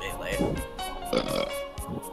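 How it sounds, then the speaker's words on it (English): A man lets out a couple of loud, croaky burps close to the microphone during a Smash Bros. Melee stream, with talk mixed in between. "He burped. It's disgusting."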